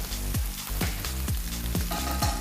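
Pork chops sear in a pan heated to at least 350 degrees, giving a steady broadband sizzle with a regular, rhythmic low thump pulsing beneath it about twice a second.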